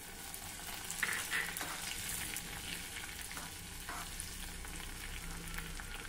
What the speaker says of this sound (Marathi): तूप गरम झालं की त्यामध्ये थोडं जिरं मोहरी घालूया।